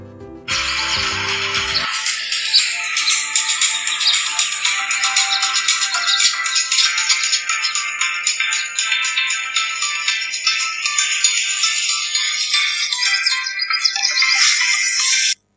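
Bright, trebly music with a steady beat plays loud and continuous through an iPhone 12 Pro speaker, cutting off abruptly at the end.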